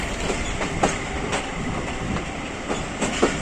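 Jaffar Express passenger train running out of Jhelum in Pakistan, heard from on board: a loud, continuous rumble and rattle of carriages with periodic clickety-clack wheel beats over the rail joints, and no voices.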